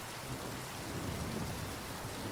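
Steady rain pours down close by, a dense hiss with low rumbling thunder rolling beneath it throughout, no voices.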